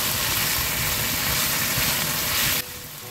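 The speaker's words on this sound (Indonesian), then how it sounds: "Ini dimasukkan semua ayamnya, kemudian diaduk seperti ini ya teman-teman" Marinated chicken pieces tipped into a hot pan and stirred, giving a steady loud broadband sizzle that drops abruptly to a quieter hiss near the end, with no voices.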